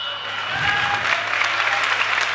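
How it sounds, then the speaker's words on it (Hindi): Audience at a religious gathering breaking into loud applause, dense clapping that builds from the start and stays strong and sustained. "जोरदार ताली बजा करके आपको धन्यवाद दीजिएगा"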